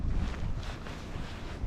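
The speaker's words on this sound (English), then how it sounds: "it's just cold and kind of windy" Cold, gusty wind buffeting the microphone outdoors at a riding spot, a brief, loud, continuous low rumble with no talking.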